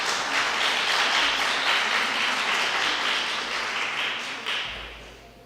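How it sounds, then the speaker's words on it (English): Audience applause at a migration and cities workshop in Mexico following a talk, a dense steady clapping from a crowd that stays loud for several seconds, then gradually thins and fades toward the end. "They were applauding me, weren't they?"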